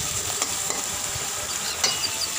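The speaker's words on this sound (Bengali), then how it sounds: "আমি কষাবো।" Chicken with potatoes, onion and whole garlic cloves sautéing in oil, a close, steady sizzle broken by sharp stirring clinks and scrapes of a utensil against the pan, with no talk.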